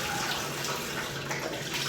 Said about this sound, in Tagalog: maghuhugas na rin ako ng mukha